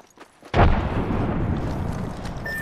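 In Apex Legends a grenade bursts with a sudden loud boom after a quiet moment, then a long rumbling decay that fills the rest of the moment.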